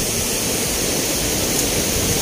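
A continuous, dense roar of Kundah waterfall in the Nilgiris, loud and unbroken, with no voices.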